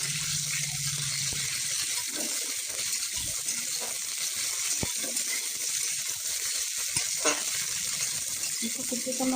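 Cabbage frying in hot oil gives a steady, dense sizzle that runs throughout, with occasional faint clinks and stirring sounds and no talking.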